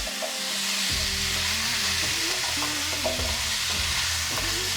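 Washed rice being stirred in a hot pot for vegetarian pilau, a steady sizzle and frying hiss with repeated scraping strokes of the spoon, close and alone without talk.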